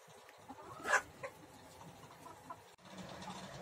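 Hens clucking quietly on a farm, with one short louder cluck near the start and faint scattered calls over a low, dull background.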